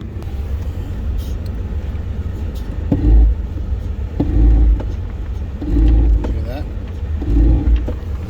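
A 2014 Ford F-150 pickup with a bad motor reverses under light throttle, its low engine rumble steady inside the cab and swelling into several heavy booming surges.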